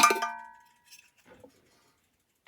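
An old 1980 army metal kettle is handled, giving one bright ringing clang that slowly dies away, then a few faint knocks and a soft tap at the end.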